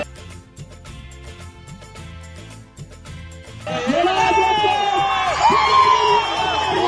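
A cricket crowd celebrates a victory at a ground in Pakistan: after several seconds of commentary-like talk, loud cheering and shouting erupt and keep going as a dense, close roar.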